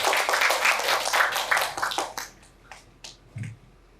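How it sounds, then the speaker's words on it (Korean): Audience applause at a Korean book-talk event, a burst of many hands clapping that fades quickly, leaving a few scattered last claps and a soft low thump near the end. "뜨거운 박수 부탁드리도록 하겠습니다."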